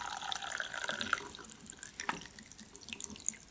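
Tea poured from a pot through a loose-leaf tea strainer at an afternoon tea table makes a steady, close trickle of liquid, with a few brighter splashes and drips along the way.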